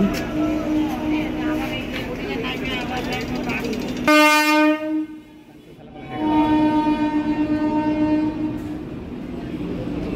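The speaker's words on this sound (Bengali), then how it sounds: "প্রতি মিনিটে মিনিটে ট্রেন ঢুকছে এখানে" A train horn sounds a long, loud blast over the rumble of trains pulling into a busy railway junction near Dum Dum in Kolkata, with the rolling noise continuing after it.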